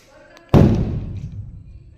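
A single heavy thud rings out as a hand strikes the top of a dead body freezer box, followed by a short, dull resonant decay, with faint background sound before the hit.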